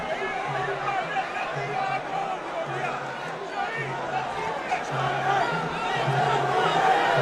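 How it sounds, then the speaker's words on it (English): A boxing crowd in Myanmar roars and cheers wildly around Tha Pyay Nyo's fight, a dense, continuous swell of voices that grows louder toward the end, with speech mixed into the din. "At the moment, the crowd is going wild."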